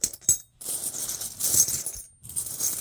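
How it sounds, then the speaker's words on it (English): Silver coins drop and clink against each other in a bright, jangling stream, pausing briefly and then resuming, close by with no talking. "Don't you just love hearing the sound of silver?"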